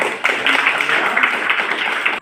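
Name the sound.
classroom applause, students clapping hands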